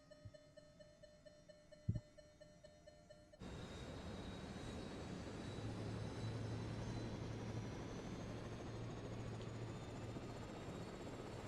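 A BO 105 helicopter engine in a flight simulator game spins up after a quiet idle hum and a click, jumping into a steady broadband turbine roar with a rising whine that keeps building, no voices.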